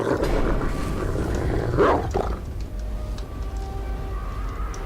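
A dog growls in the horror video game Layers of Fear: Inheritance, a deep, rumbling snarl that swells loud around the middle and then settles into a low continuous drone over ambient game noise.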